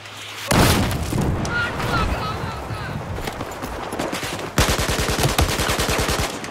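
Battlefield 4 game gunfire: loud rapid automatic bursts that start abruptly, ease into scattered shots and booms, then return as a fast rattling volley, with a voice talking over it.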